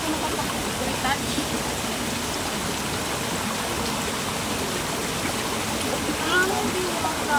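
River water flows steadily while people bathe in the river on a fruit farm, a broad, constant rushing wash with faint splashes and a brief high chirp, nearby and fairly loud throughout.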